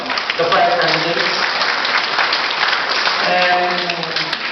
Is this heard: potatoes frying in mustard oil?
no